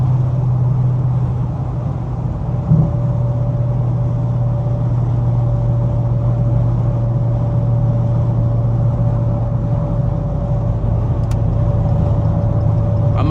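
A Chrysler 300 cruises at night, its engine a steady low drone with constant road hum from inside the cabin, even and unbroken with a faint tonal whine, no speech.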